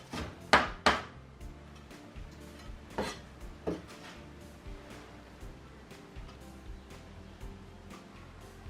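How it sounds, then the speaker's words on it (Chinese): A knife chops tomato finely on a cutting board for tomato egg soup. A few sharp, close knocks come early, then faint, irregular taps continue over a low background hum, with no talk. "那个尽量给它切碎一点，那个味道才炒得进去哈"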